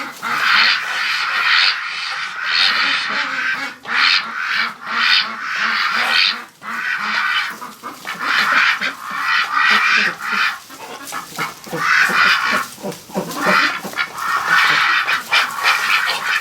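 A flock of Muscovy and Pekin ducks, drakes among them, quacks and honks almost without pause outdoors in cold wind, loud and close, with overlapping harsh calls rising and falling in ragged bursts.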